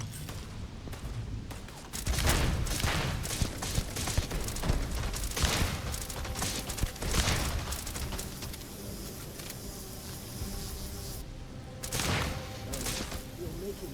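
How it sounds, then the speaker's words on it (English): Sci-fi gunfire in the video game Starfield, a steady barrage of sharp shots and booms over a busy combat background with voices talking. "Somebody still shooting at us?"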